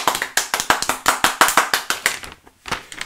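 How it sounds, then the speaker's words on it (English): Slow, light handclaps, a dozen or so evenly spaced soft claps, close by, with a short pause before the last couple. "Golf clap."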